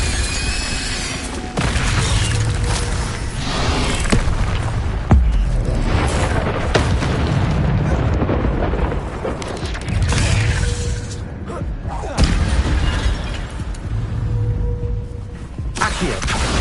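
Fiery Incendio spell blasts in Hogwarts Legacy, a series of loud whooshing bursts and booms spaced every few seconds amid combat noise.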